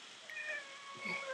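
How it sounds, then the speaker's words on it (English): A cat gives a drawn-out, wavering meow close by, a single plaintive call rising and falling over quiet room background. "That's a cat. Look at that. That's a real nice cat."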